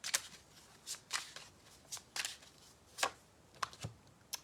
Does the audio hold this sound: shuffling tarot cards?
yes